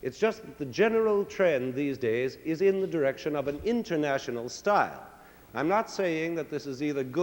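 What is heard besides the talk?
No distinct noise like a dog, phone or traffic.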